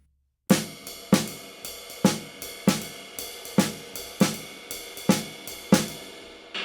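A drum kit plays the Charleston rhythm, on beat one and the and of two, as a steady repeating pattern of sharp, ringing strikes in a regular rhythm, loud and close with nothing else heard.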